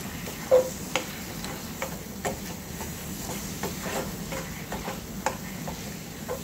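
Cucumber mixture sautéing in a pan over medium-high gas, a steady soft sizzle with repeated light clicks and taps of a spoon stirring against the pan, fairly close and without talk.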